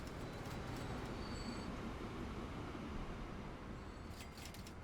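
Steady rumbling rolling noise of a train hauling a line of wagons in a video game, continuous and fairly loud throughout with faint high squeals near the end.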